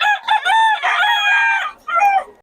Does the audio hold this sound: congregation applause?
no